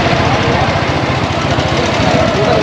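A boat's inboard engine runs steadily, turning its propeller, with a dense low rumble and rhythmic knocking pulses that stay loud and constant throughout, with no pauses.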